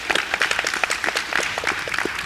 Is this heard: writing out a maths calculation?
no